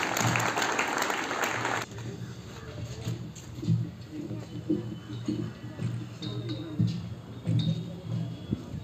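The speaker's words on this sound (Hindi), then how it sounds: "जोरदार तालियां एक बार पुनः सभी।" Applause from an audience at a school event marking International Thinking Day and the birth anniversary of Scouting founder Robert Baden-Powell, a dense burst of clapping for about two seconds that then fades into scattered claps and room noise.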